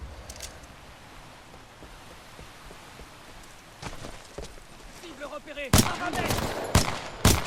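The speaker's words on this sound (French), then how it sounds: "Ah, c'est une rafale, ok." Burst fire from a gun in the video game Titanfall 2, several sharp loud bursts clustered near the end after quieter scattered shots, with a voice speaking over it.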